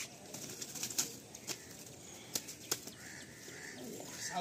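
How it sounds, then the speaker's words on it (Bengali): A pair of loft pigeons released to fly, with sparse wing flaps and claps at a moderate distance. A faint coo sits over a steady background hiss. "আসুন এই পেয়ারটাও ভাই ছেড়ে উড়িয়ে দেখাবে।"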